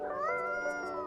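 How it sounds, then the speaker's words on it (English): A single drawn-out meow from a small cat in the video game Coffee Talk, clear and close with a wavering pitch, heard on its own over a soft musical background. "It's a cute kitty!"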